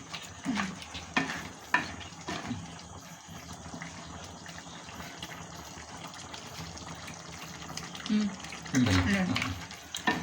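Crab curry in a home-style Kerala pot being stirred, soft scraping and gentle bubbling and sizzling, with a few sharper clanks near the start and a louder burst of stirring toward the end; a voice talks briefly over it.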